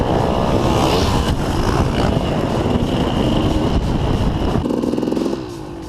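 A dirt bike engine revs hard under full, wide-open throttle while riding in ruts. The loud, continuous motor roar runs throughout, then eases and drops in level near the end.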